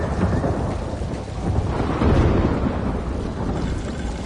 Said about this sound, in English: Lightning flashes over Shang Tsung's caravan at night.